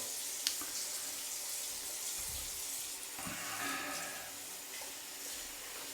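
Ice cold tap water runs steadily into a sink to wet a face cloth, a constant soft hiss and splash heard close and alone.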